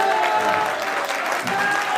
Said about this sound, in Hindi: इस पे ताली बजनी चाहिए।